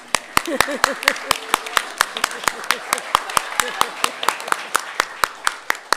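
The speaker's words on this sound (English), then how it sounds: "Everyone here supporting Tess, could you please stand so we can applaud you if you're here?" Attendees at a school district board meeting applaud supporters who have stood up: crisp, evenly spaced claps keep a steady rhythm close by while voices talk underneath.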